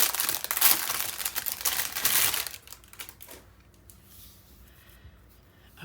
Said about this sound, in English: Oh, I need to get some more tape out here.